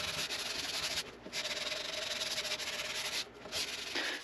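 Sandpaper worked steadily over a guitar fretboard through progressive grits, a dense continuous rasping scrub with two short pauses where the stroke breaks, close and fairly loud throughout.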